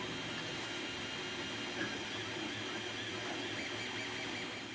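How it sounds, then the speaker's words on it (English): A 3D printer prints scanned automaton parts with a steady, faint, broadband whirr and hum that continues evenly throughout, with no talking. "Now to go ahead and 3D print them"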